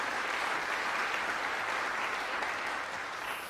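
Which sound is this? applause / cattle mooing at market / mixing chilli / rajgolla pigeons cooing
applause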